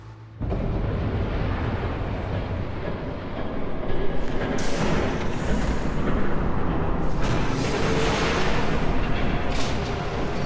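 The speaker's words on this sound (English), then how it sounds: "There's a train coming." A train rumbles past in a Batman video game, a loud, dense, continuous roar and clatter that starts abruptly and swells, holding steady at close range with no talk over it.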